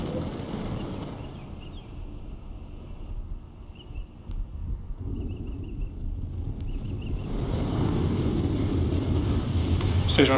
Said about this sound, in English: Ignition and liftoff. Go Falcon, go Starlink. There it goes. We have liftoff. Falcon 9 has cleared the tower.